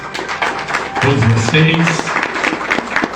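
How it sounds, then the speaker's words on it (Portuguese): An audience at a formal ceremony bursts into loud, sustained applause, with talk and cheering voices running through the clapping. "pedir uma salva de palmas a todos vocês"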